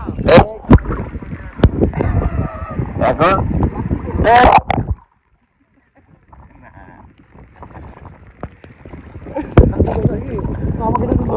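A trawler or boat motor churns on open water while people talk loudly over it as boats arrive to collect cattle; the sound drops out briefly, then the engine and voices return.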